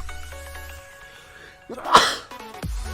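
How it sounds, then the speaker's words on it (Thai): A single loud, close sneeze bursts out over the faint electronic chimes of an online slot game. "โอ้ยจามจนได้นะ"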